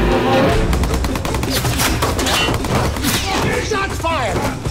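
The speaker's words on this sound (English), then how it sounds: "Shots fired! Shots fired!" Gunfire rattles out in repeated bursts during a film attack on a container vessel, the shots loud and close amid shouting voices and general commotion.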